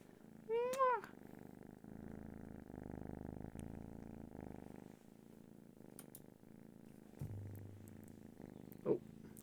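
A sleeping kitten purrs steadily and close, a soft rhythmic rumble running through the whole stretch, with a brief high chirp near the start and a few faint clicks and rustles.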